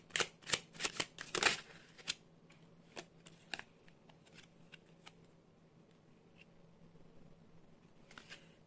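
Tarot cards are handled and shuffled for a card draw: a quick run of crisp riffling clicks and flutters up front, then sparse soft taps and slides of the cards in a quiet room.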